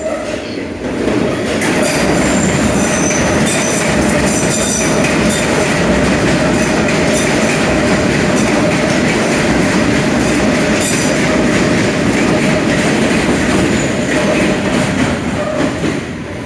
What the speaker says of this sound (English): This is a semi-fast Metropolitan line train to Chesham